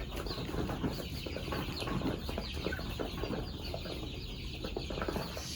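Free-range native Sentul chickens in a coop, with steady overlapping clucks and soft calls from several birds close by over a busy farmyard background and occasional wing flaps.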